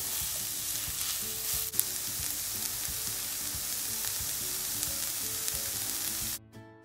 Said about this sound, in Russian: Добавляем к луку и морковке и будем обжаривать примерно 5-6 минут.